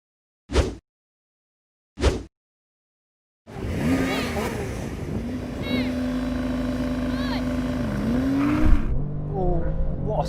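A McLaren supercar launches in a drag race after two short sharp bursts, then a loud sustained engine roar climbs steadily through gear shifts, with people talking over it.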